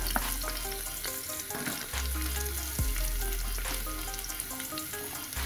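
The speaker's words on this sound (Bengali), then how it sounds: "এরপরে আমি অল্প তেলে ক্যাপসিকামটা আগে থেকে একটু ভেজে নিলাম" Capsicum frying in a little oil in a pan, with a steady, close sizzle throughout and occasional stirring clatters, no voices.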